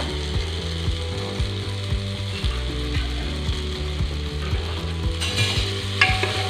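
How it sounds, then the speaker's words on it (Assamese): Onion and ginger-garlic paste fries with salt in a pressure cooker for local chicken while a spoon stirs it. Steady, rhythmic scraping strokes ride over a constant close sizzle, with no voices. "লৰাই থাকিম ভালকৈ মিক্স নোহোৱালৈকে।"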